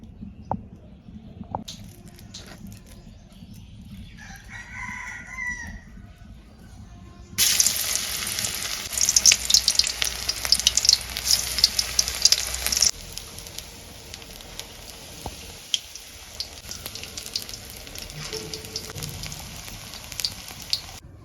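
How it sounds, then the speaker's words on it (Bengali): Rose petal fritters fry in hot oil in a wok, a soft crackling sizzle that rises sharply partway through and then settles to a quieter, steady hiss with faint patter. "বড়া ভাজার জন্য কড়াই গরম করে কড়াইতে তেল দিয়ে দিয়েছি।"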